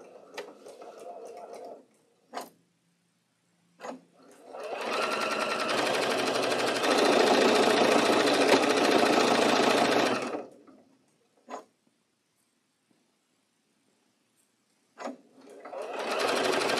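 Sewing machine stitching the last seam of a quilt block, a close, fast whirring hum running for several seconds between short starts and stops, with a few clicks and brief handling sounds around it.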